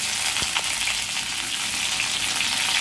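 Red chilies sizzle steadily in hot oil for upma, a continuous close frying hiss with a couple of brief pops and crackles, no voices.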